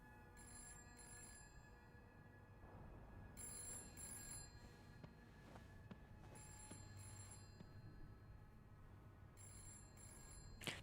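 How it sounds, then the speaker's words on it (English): A telephone rings repeatedly inside a mid-century-set video game, sounding as spatial in-game audio. Bursts of bright ringing repeat in steady pairs over a low background hum, moderately loud with no talk. "you can let the phone ring through."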